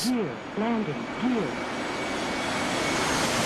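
An AV-8B Harrier jet in the DCS flight simulator roars past in a steady, broad engine rush. A voice sounds briefly at the very start, then the engine noise continues loud and alone.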